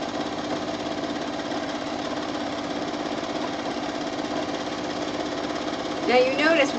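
A sewing machine runs steadily at a constant hum throughout a free motion quilting session, with a brief voice near the end.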